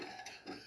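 Spoon stirring sugar into a beetroot juice and corn flour mixture in a bowl, a soft continuous scraping swirl with two slightly louder sweeps, close and faint.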